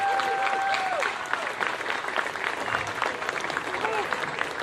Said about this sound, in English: So I think we should give everybody a big round of applause.